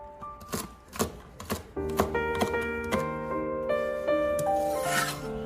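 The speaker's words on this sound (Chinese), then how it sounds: "将小米辣切成圈" Bird's eye chilies sliced into rings with a knife on a cutting board, a run of sharp close chops settling into faster light taps, with background music playing throughout.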